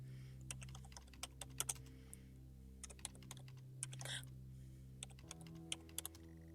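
Keys clack on a computer keyboard while playing the horror game Stories Untold, in irregular bursts of sharp taps over a steady low hum, close and fairly quiet.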